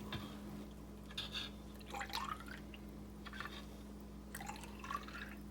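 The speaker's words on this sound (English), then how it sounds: "Here we go, we're pouring the wax in." Melted beeswax pours from a stainless steel pot with a spout and handle into a tin tapered candle mold, giving faint liquid trickles and two rising filling gurgles over a steady low hum.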